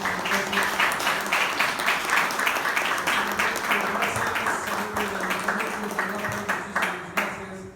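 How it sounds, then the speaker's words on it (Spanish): An audience applauds a doctor at an evening event, a moderately close crowd clapping in a fairly regular rhythm that holds for several seconds, then thins out and fades toward the end. "un aplauso para el doctor"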